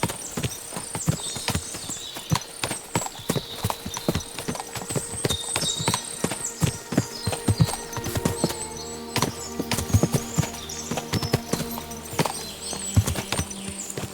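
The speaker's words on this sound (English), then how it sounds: "What a lot of horses." Horse hooves clip-clop steadily in the medieval video game Kingdom Come Deliverance 2, with many overlapping sharp steps from a large group of horses, close and continuous, and a faint whinny possible beneath.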